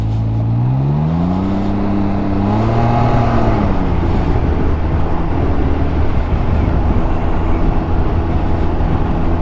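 A Can-Am Ryker three-wheeler with a CVT transmission, in eco mode, accelerates onto a highway, its engine droning loudly with a rising and falling pitch that settles into a steady high-revving roar under heavy road and wind noise.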